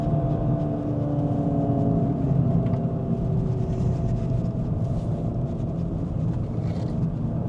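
An MK8.5 VW Golf GTI Edition 50 drives along, its engine a steady, deep rumble and whir heard from inside the car, with no voices.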